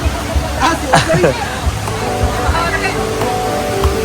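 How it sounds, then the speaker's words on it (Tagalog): Rushing water churns and sloshes continuously at close range at a bridge on Camiguin Island, with scattered voices and splashes over the steady roar. "Lakas ng tubig dito mga kaislaw, tingnan nyo."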